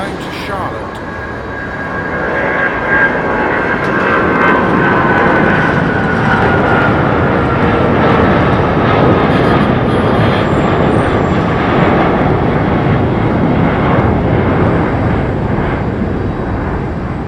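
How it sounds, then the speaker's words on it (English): An American Airlines Boeing 777-200 departs London Heathrow for Charlotte, its broad jet roar swelling after a quiet start and staying loud and sustained, with faint talk mixed in. "It's the American Airlines Boeing 777-200, and that is going to Charlotte."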